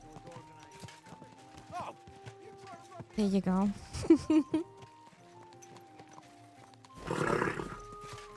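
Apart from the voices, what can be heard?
horse hooves and neighing in Kingdom Come: Deliverance II video game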